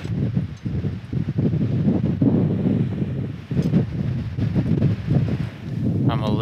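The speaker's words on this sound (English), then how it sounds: "It's so cold and windy out" Steady wind roars and buffets the microphone outdoors on a cold mountain, with gusty rumbling throughout and brief muffled pauses.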